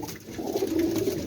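A golden pigeon coos softly in a short, low, throaty call, heard alone and fairly close.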